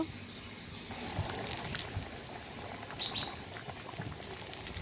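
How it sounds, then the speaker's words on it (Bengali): Fish curry broth with taro root and bata fish rolls at a steady boil, a dense bubbling churn that holds moderately loud and continuous with a few sharper pops. "ঝোলটা ফুটে উঠেছে ভালো করে"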